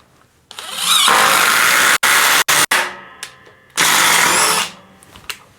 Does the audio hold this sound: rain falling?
no